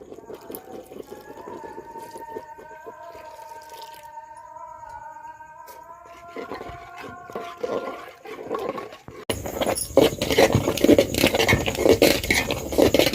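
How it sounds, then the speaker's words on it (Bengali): Milk poured into a pot of half-cooked boiling rice for payesh, first a thin steady trickle under soft tonal sounds, then swelling into a loud, rushing, bubbling wash of liquid over the last few seconds. "এবার আমি দুধটা দিয়ে দেবো, যে দুধে ভালোভাবে সিদ্ধ করে নেব"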